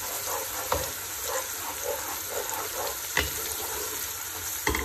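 Garlic paste is stirred into browned onions in a hot pan, giving a steady close sizzle with a few sharp spoon knocks against the pan and no speech.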